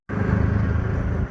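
An auto rickshaw drives along a road with a steady, close engine drone and low rumble that starts abruptly and eases off near the end.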